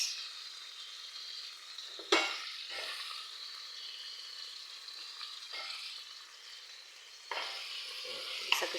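Onion and tomato hit hot oil in a pan for chicken maqluba, a soft steady sizzle broken by a few sharp spoon scrapes and stirring bursts, close and without talk.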